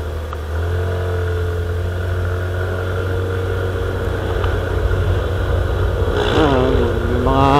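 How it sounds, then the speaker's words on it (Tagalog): Motorcycles with loud exhausts idle and rumble steadily behind the recorder, a constant low engine drone. Toward the end a rising rev cuts through. "May mga motor na mabibili sa likod ko."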